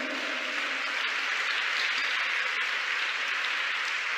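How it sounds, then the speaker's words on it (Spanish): A church congregation applauds steadily as a dense, even wash of clapping, held at a constant level throughout with no break or talking. "¡Dale un aplauso al Señor!"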